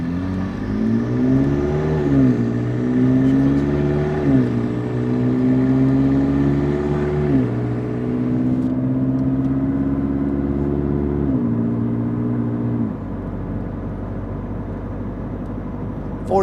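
A 2019 McLaren 600LT engine pulls hard through several gear changes on a quick test drive, a loud, close rising roar with a brief dip at each shift, then settles to a lower drone as speed levels off.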